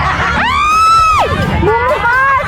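A crowd of people shouts loudly in a busy street setting, with one long rising and falling yell on top of a babble of voices, all close.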